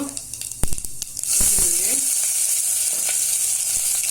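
Cumin seeds dropped into two tablespoons of hot oil for a Mysore-style masoor dal tadka, bursting into a loud, steady sizzle after a few faint clinks and stirs, then holding a bright crackling hiss to the end.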